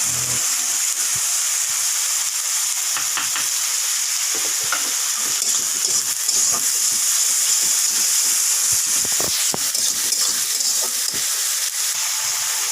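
Spices frying in a pan for a fish curry while being stirred, a loud continuous sizzle and hiss with scraping stirring strokes and occasional sharp crackles, no speech.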